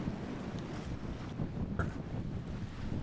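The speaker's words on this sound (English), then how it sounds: "Mostly they're the sounds of the water going by the hull" Salt water sluices past the hull of a sailing yacht making 6 or 7 knots at night, a low, steady rushing wash with soft gurgles, heard close by and fairly faint, with no voices.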